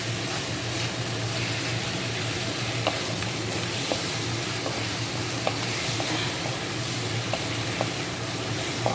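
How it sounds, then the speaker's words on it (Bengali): Taro leaves frying with broken hilsa fish heads give a dense, steady sizzle in a pan, with light scraping clicks of stirring at regular intervals, close and continuous. "সব কিছু একবার ভালো করে ভেজে নেব।"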